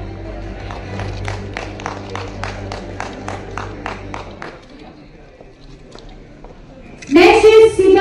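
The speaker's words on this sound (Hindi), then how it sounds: "Huge applause everyone." Audience applause at an award ceremony in Khurda, Odisha. A room of people gives a steady, moderately loud round of clapping that fades out partway through, then a voice speaks close up over a microphone.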